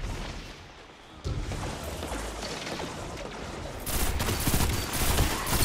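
Sniper gunfire during a multiplayer shooter video game match, heard as dense, overlapping bursts of loud shots with booming impacts that run continuously, dipping briefly early on and then swelling louder toward the end, with no talk over it.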